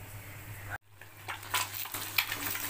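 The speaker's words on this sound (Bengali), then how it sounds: "আমি এবারে এই ভাতের মধ্যে ভেজিসটা দিয়ে পুরোটা মিক্সিং করব" Fried vegetables being stirred into cooked rice in a pan, a brief pause followed by soft clinks and scraping of a utensil against the metal, close and fairly quiet.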